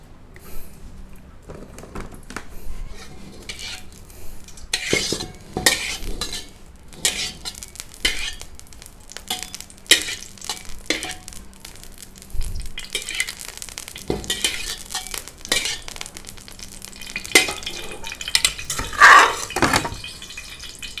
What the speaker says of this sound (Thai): มาลงมือผัดกันเลย